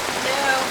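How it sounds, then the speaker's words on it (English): Steady rain pattering outside a camper, a dense, fairly loud hiss of drops that runs unbroken through the short moment. "It's raining, of course."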